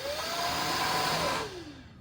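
A Shark Vertex Pro cordless vacuum cleaner runs with a loud, steady broadband whir and a rising whine, then its motor winds down and the pitch drops near the end. No one talks.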